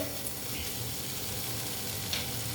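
Masala for matar paneer being sautéed in a pan, giving a steady, soft sizzle and fry with faint stirring, and no talk over it.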